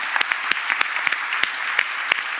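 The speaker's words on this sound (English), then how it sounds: "please, a huge round of applause for Mikhail, Olena, Victor, Rashad and Patricia" An audience at a regional perspective session on Central Eastern Europe, the Middle East and Africa claps steadily, with a dense wash of applause and a few sharp individual claps standing out throughout.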